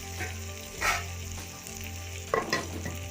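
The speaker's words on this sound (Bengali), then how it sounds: "আর এর সাথেই আমি ক্যাপসিকামটা একটু দিয়ে নিচ্ছি যাতে ক্যাপসিকামটাও একটু নরম হয়ে যায়। আর লঙ্কাগুলো দিয়ে দিলাম" Capsicum and green chillies frying in a hot pan with oil, a steady sizzle with a few louder crackles and stirring bursts, close and without talk.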